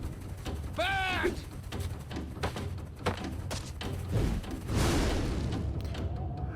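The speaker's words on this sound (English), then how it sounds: "Bird!" A cartoon bird, from the animated series Star vs. the Forces of Evil, gives a short warbling call with a rapid wavering pitch, followed by thumps and a whooshing swish over cartoon voices.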